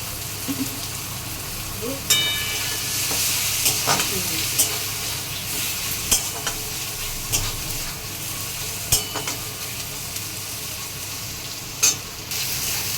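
Turmeric and chili spices fry in a pan with a continuous soft sizzle. Sharp clicks and scrapes of a stirring spoon break in every second or two.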